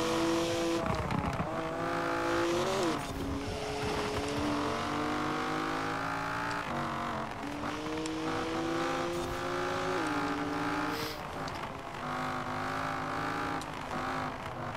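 A BMW M4 race car in a racing video game revs hard, with rising engine pitch and audible drops as it shifts down, a loud continuous drive with a couple of sharp gear changes.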